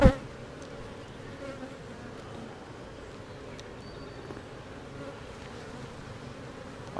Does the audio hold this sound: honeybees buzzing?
yes